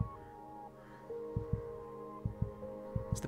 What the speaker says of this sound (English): they could both feel their own heartbeats begin to slow